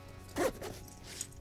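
A quick pull of a heavy-duty zipper on an Aclam pedal board case, one short close rasping zip followed by faint handling noise in a quiet room.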